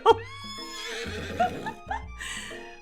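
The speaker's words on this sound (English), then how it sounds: "your sudden movements surprise the horse and it rears up" A horse rears and neighs in a KFC dating sim video game, giving a loud, close whinny with several shrill, shaky bursts that rise and fall.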